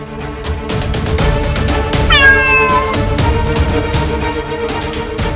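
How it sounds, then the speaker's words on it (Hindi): A cat meows loudly with a rising-falling cry near the middle, over a busy background of music and other household sound in a domestic scene. "बिल्ली?"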